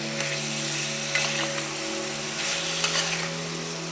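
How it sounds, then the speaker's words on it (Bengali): Spice paste frying and being stirred in a pan while making pineapple chicken, with a steady sizzle and occasional soft scrapes of the spoon. It sounds close and moderately loud, and no one speaks. "এই পেস্টটা রেখেছিলাম, এটা দিয়ে দেবো। ভালো করে নেড়ে চেড়ে নেবো।"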